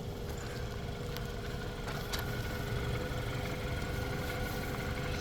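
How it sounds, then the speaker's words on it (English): A silver 2015 BMW 328i cruising on the highway, giving a steady, unbroken drone of engine and road noise that stays at an even loudness throughout, with no talking. "Some highway driving here."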